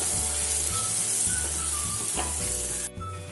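Masala with dried red chilli stirred in a hot pan, giving a loud, steady sizzle with soft scraping strokes from the stirring. It drops slightly near the end.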